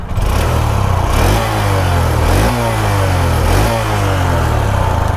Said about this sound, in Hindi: चलिए इसका मैं आपको एक बार एग्जॉस्ट नोट सुना देता हूँ।